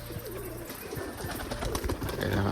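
Pigeons coo in soft, low, throaty murmurs close by, with several birds overlapping against steady background noise.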